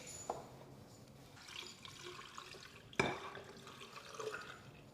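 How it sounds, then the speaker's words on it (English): Pickling lime water poured onto eggs in a container for water glassing: a quiet liquid splash and trickle with a sharper splash midway, faint and close. "we're gonna pour our first batch of pickling lime onto our eggs."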